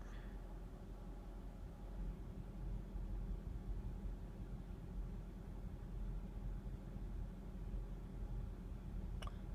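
A Mercedes ML430 idling with no throttle applied gives a faint, steady low rumble that holds constant throughout, with no revving and no voices.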